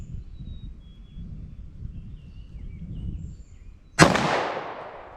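A 9mm+P or .40 S&W subcompact handgun fires one loud, sharp shot with a ringing decay, after a few seconds of quiet outdoor ambience with faint birdsong.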